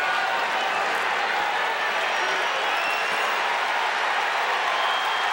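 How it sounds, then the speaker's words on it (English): A restless stadium crowd buzzes and murmurs steadily at a US Open tennis match between Pete Sampras and Andre Agassi at match point, a continuous wash of distant noise with scattered claps. "Can't keep the crowd quiet."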